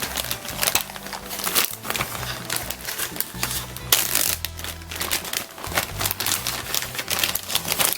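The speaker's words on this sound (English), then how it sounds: "Let me get the kit out of the bag." A 1974 Cuda model car kit pulled from its crinkly plastic bag, giving loud close-up crackling and rustling that runs continuously with sharp bursts of crinkle throughout.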